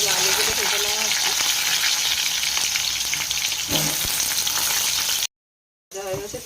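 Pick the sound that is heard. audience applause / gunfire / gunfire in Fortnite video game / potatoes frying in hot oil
potatoes frying in hot oil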